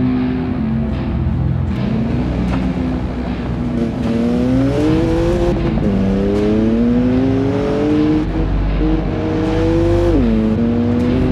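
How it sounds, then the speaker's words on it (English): A BMW M4 and a Mercedes GLE race recklessly past, their engines revving loud and close with repeated rising and falling pitch sweeps over a steady roar, with no talking. "two luxury cars, a BMW M4 and a Mercedes GLE, racing past him recklessly"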